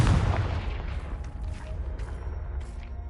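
Confringo blasting spell explosion in the game Hogwarts Legacy: a single loud, deep boom at the start that decays into a rumbling tail, with faint crackles and debris afterward and no talking.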